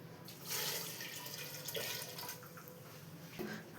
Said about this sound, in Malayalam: ഇതിലോട്ട് ഇനി 2 ഗ്ലാസ് വെള്ളം കൂടെ ഒഴിച്ചു കൊടുക്കുന്നുണ്ട്.